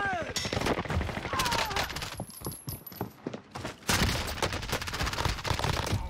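Rapid gunfire in the Call of Duty Warzone video game, dense loud bursts of automatic shots, with a player talking over the action.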